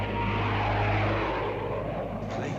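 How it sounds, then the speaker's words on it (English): Low-flying propeller airplanes from a 1951 film drone loudly and continuously, a dense roaring engine wash that stays heavy throughout and eases slightly toward the end, with no talk over it. "Planes. How low they're flying."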